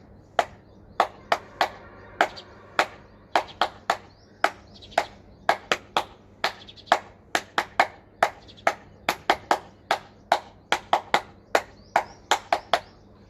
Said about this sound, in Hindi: विराम देने से पहले ताली बजाने वाली क्रिया हम अभ्यास करेंगे